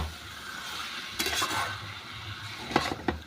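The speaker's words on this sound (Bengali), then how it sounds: "এবারে গ্যাসটাকে লো করে আমি মাংসটা ভালো করে কষিয়ে নিচ্ছি" Mutton braises in a pan on low heat, a low steady sizzle under a few scraping strokes of a spoon stirring it, close by and without speech.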